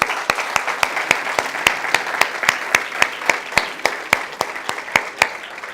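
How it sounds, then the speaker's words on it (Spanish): A church congregation applauds in honor of mothers, a sustained crowd applause threaded with a steady, rhythmic run of sharp individual claps keeping time, fairly close and loud. "un gran aplauso podemos darle a todas las mamás en el día de hoy"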